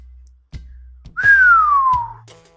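A single long whistled note slides downward, clear and close, set among a few soft knocks and rustles.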